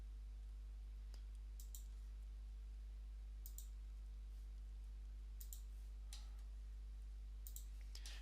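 Sparse computer mouse clicks, quiet and crisp, come in small clusters of one to three over a steady low hum while a 3D modeling project is built.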